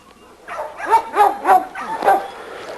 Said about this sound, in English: This is our little champion Rocco dog